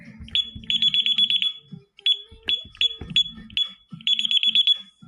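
Bursts of rapid high-pitched electronic beeps from an ADT Impassa security alarm keypad being armed and disarmed, several sequences with short pauses, mixed with low clicks and thumps of button presses.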